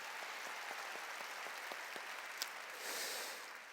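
A church congregation claps together in a faint, even rhythm during a sermon, then the applause briefly swells into a fuller burst before fading.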